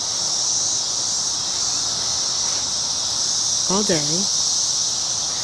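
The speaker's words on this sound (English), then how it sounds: "as you listen to the cicadas" A constant high-pitched buzzing drone of cicadas fills the background, with a short spoken phrase partway through.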